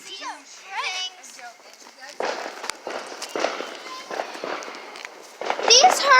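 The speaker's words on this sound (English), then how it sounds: "We're doing fireworks!" Firecrackers and fireworks are set off outdoors by a family with children, giving several sharp crackling bursts and pops, some close, mixed with excited children's voices and footsteps.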